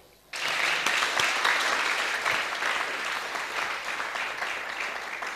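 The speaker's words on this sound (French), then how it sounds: "Moi, à votre place, j'applaudirais 2 fois." A hall audience at a diploma ceremony bursts into loud, sustained applause after a brief quiet moment; dense clapping holds steady and full to the end with no talking.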